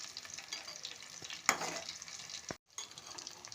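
Agati flowers (bokful) frying in mustard oil in a pan, a close, steady sizzle with one sharp spatula knock and a short scrape, broken by a brief silent gap, with no talking.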